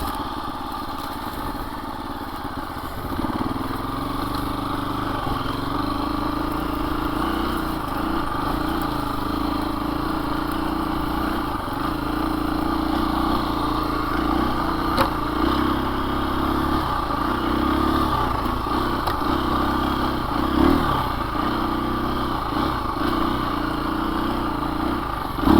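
A 2024 KTM 350 EXC-F dirt bike runs in first gear, a steady mid-pitched engine drone with slight rises and clatter, close and continuous without talk.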